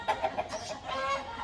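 A rooster, a young cock about eleven months old weighing around 2.5 kg, lets out a few short, close clucks followed by a slightly longer call, heard clearly and without talk.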